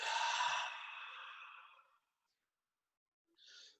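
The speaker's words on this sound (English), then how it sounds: "Deep breath in." One deep breath during a breathing exercise, a long airy rush that fades over about two seconds, followed by silence and a short, softer breath near the end.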